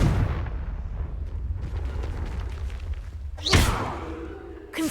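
A Confringo fire spell cast in Hogwarts Legacy on PS5: a low rumbling blast with crackling texture, then a sharp, bright whooshing burst near the end, loud and close, with no talk.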